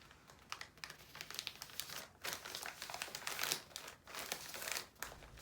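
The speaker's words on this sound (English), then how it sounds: "After sealing the Polymailer, I try to get all the air I possibly can out of the bag so that it could lay very flat." Plastic poly mailer bag pressed flat by hand to squeeze out air, a quiet close crinkling with irregular bursts of rustling and short pauses.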